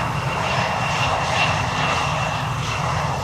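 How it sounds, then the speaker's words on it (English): A KLM Embraer 175 jet lands at Schiphol on the Polderbaan runway, heard as a loud, steady broadband engine roar that stays constant throughout, with no speech. "one after the other narrowbody is landing here. Another KLM Embraer, an Embraer"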